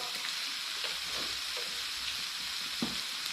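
Squid cooking on a Thai-style tabletop grill gives a steady, close sizzle with soft crackles and an occasional pop, carrying on without any talk.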